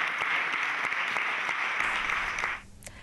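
An audience applauds a municipal music school's saxophone performance of the European anthem: dense, steady clapping that fades out near the end, leaving a few scattered claps.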